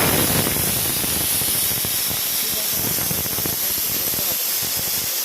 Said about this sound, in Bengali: এখানে ভাজছি উঠছে উঠছে ভাজছে উচ্ছেগুলো লাল লাল করে ভাজবো